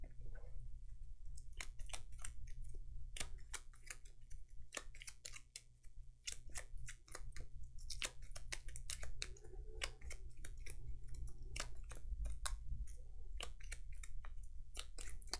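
A Gloomhaven card deck is shuffled close up in rapid, crisp riffles and flicks of card stock, dense clicking bursts running steadily over a low background hum.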